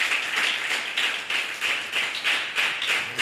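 A church congregation claps in unison, a steady rhythmic beat of sharp, moderately loud hand claps roughly three per second, with no talking.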